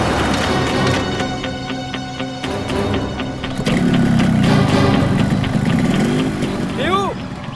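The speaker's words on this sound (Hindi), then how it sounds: "बाइक स्टार्ट हो गई, जल्दी आओ।" A motorbike engine runs at a steady, fairly loud idle, a continuous low throb heard under people talking.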